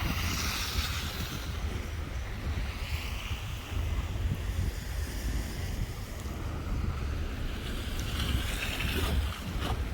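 Wind buffets the microphone on an evening walk after a winter snowstorm, a steady rumbling roar with gusty swells that persists throughout, with no talk.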